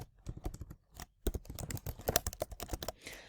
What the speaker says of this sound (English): So I'm going to type in my question